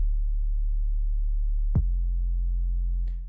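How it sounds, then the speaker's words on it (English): Roland 808 bass drum: a long, deep sustained boom with a sharp click attack partway through and a fainter tick near the end, heavily processed so it rings like a synth bass tone, loud and alone. "that is just straight up an 808"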